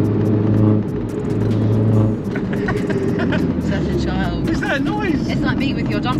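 A Mini R56 JCW track car engine revs loudly with a deep droning rumble and shifting pitch, heard from inside the cabin while people chat over it.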